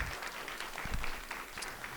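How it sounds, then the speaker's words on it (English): Brief applause from an audience at a club tour talk: scattered, fairly quiet clapping over about two seconds with a few sharper claps standing out. "A round of applause for that."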